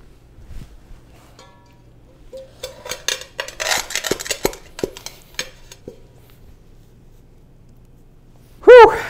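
Coffee beans crushed with a cooking pot at home, a run of clattering metal knocks and grinding scrapes building in the middle, then a sharp ringing clang of the pot near the end.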